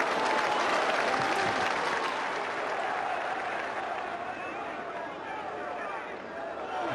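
A football crowd at a Watford match roars and applauds in a dense, continuous wash of noise that swells at the start and slowly eases off.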